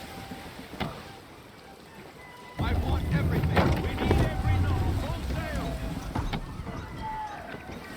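A sailing ship at half sail in Assassin's Creed III pushes through steady wind, a broad rushing roar of wind and water that swells in partway through, with creaks and a voice talking over it.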